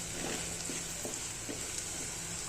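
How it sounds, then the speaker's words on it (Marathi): Homemade red chili powder roasts in oil over a low gas flame for a pea and potato curry, giving a soft, steady sizzle with a few faint clicks of stirring. "हे घरी बनवलेलं थोडंसं लाल तिखट आता हे ना कमी गॅसवर एकदम व्यवस्थित भाजून घ्यायचं"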